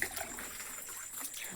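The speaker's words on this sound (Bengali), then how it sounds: "ওখানে জলটা বেরিয়ে যাচ্ছে" Water trickles and drains out through a gap in a dirty drain channel where fish are being caught, a soft steady flow with light splashing close by, quiet and continuous.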